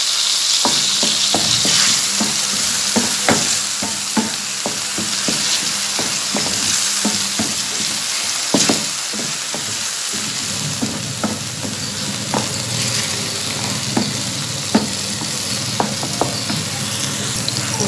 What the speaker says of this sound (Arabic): المهم درت هنايا لاصوص هو الثومه والملحه، ودابا غادي نحركها قبل ما تحرق ليا هاد تحرق ليا هاد لاصوص